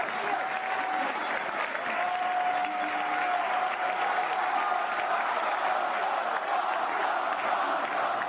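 Crowd at a Super Smash Bros. tournament applauding and cheering, a sustained dense roar of clapping with scattered whoops and shouts, steady and loud throughout.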